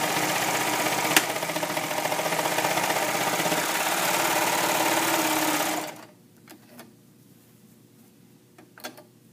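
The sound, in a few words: serger overlock machine sewing knit fabric hem band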